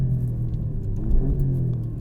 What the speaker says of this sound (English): Yeah, this car still rips.